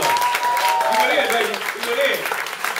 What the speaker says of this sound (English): Clap it up for Shan one more time, man. Give us some love